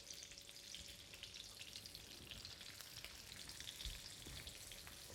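Fish frying in a very hot wok with oil, a steady dense sizzle and crackle that carries evenly throughout, close and fairly quiet, with no voices.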